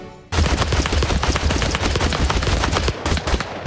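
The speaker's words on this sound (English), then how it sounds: "You're shooting at the ground," Rapid, loud bursts of gunfire from blasters in the battle game TABS crackle almost continuously after a brief quiet start, dense overlapping shots with a rattling machine-gun rhythm.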